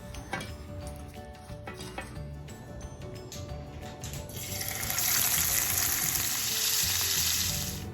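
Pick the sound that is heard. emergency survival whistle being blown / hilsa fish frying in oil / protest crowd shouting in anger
hilsa fish frying in oil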